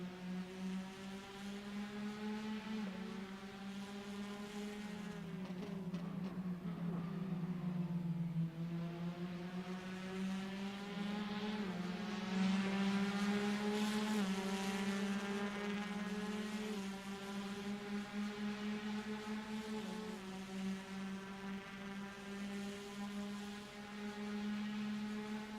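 Porsche RSR race car in a racing video game, heard onboard on a last lap, a sustained steady engine drone with a smooth rise and dip in pitch, loud and continuous with no voices.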